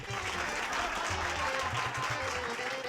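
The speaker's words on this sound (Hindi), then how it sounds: "तालियां!" Applause from a crowd at a comedy stage show, a continuous wash of clapping under a low musical drone, steady and moderately loud throughout.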